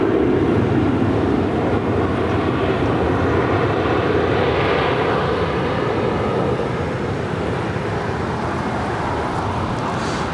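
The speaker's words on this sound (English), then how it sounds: "Southwest Airlines Flight 5244 coming in from Houston, Texas. It's a 737-700." A Southwest Airlines Boeing 737-700 arriving from Houston lands at LAX, its jet engines producing a loud, continuous roar with a slight rising whoosh near the middle, steady and unbroken, with no voices.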